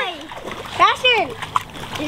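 A puppy paddles and splashes in the water on its first swim. Short sloshing splashes sit under excited voices talking close by.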